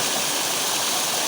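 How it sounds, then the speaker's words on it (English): Water rushes steadily through an unclogged drain dug out with a Kubota U27-4 excavator, a loud, continuous, close-up roar with no breaks. "Oh yeah, let the water flow."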